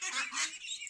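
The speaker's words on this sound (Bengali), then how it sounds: "এই যে হাঁস, এই যে হাঁস, এই যে হাঁস" Domestic ducks kept at a village home call out in a dense, continuous flock of honking quacks, several birds overlapping close by with no pause across the short stretch.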